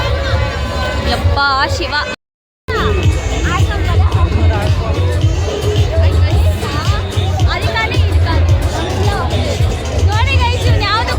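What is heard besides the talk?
crowd at the Nandi fair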